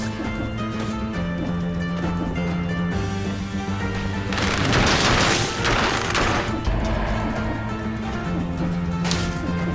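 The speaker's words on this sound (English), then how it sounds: "So I got caught midair by his grenade" An enemy grenade bursts in the action game Dead Cells with a loud crash and rumble in the middle of the clip, set over steady game music and combat effects.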